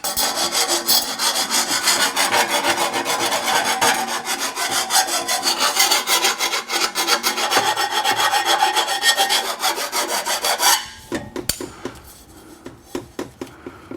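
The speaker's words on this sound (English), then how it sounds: "let's deburr this a little bit." Rasping, filing scrape as the cut end of a BMW F10 M5 exhaust pipe is deburred for a Dinan free-flow exhaust install, a loud steady rhythmic grinding for about eleven seconds, then a few separate scrapes and taps.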